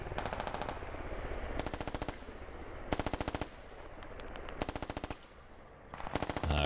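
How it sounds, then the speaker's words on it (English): Suppressing machine-gun fire across a valley in the military video game Squad, several long rapid bursts of automatic shots separated by short pauses, sharp and fairly near, with no talk. "they're providing suppressing fire across the valley"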